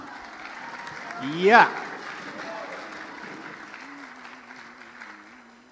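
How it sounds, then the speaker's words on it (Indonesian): Applause from the audience at a national Quran recitation competition final, sustained clapping under a brief sharp rising tone, with a speaker's voice entering near the end. "Kita berikan tepuk tangan bersama."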